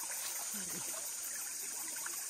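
River water streams and trickles steadily at a New Zealand West Coast river near Hokitika, a constant broadband rush heard up close with no talk.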